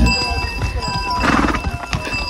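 Horse hooves clop steadily on a mountain trail toward Muktinath, a close, uneven rhythm of hoofbeats under wind and background noise.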